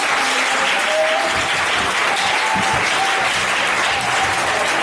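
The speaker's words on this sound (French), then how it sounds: "Acclamons encore fortement le Seigneur." A church congregation at a Sunday service claps steadily and loudly, a dense continuous wash of applause filling the whole space with no pauses.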